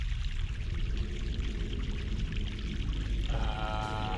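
Fresh mountain water pouring steadily in the video game The Longest Journey, a continuous splashing stream with a trickling, bubbling layer that grows clearer near the end, heard alone without talk.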